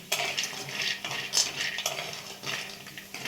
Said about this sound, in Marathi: लाल भाजून घ्यायचा सांडका